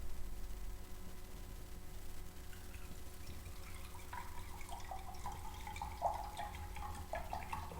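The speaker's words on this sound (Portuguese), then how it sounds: "Vou colocar mais ou menos uns 50 ml dentro do copo." About 50 ml of water is poured into a glass, a faint trickling and splashing over a low steady background hum, with no talk.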